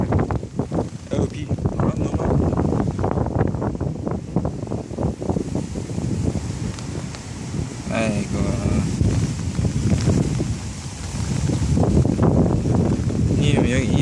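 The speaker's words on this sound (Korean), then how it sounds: "여기 이 바람 어떻게 피할래?" Wind blows hard outdoors, a constant loud rushing buffet across the microphone, with people talking over it.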